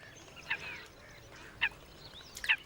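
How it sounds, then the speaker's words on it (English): Bar-headed geese, seasonal migrants at a village bird sanctuary in Koondakulam, give three short honks spaced about a second apart over a quiet outdoor background. "The bar-headed geese are seasonal migrants from lands as far as China and Mongolia."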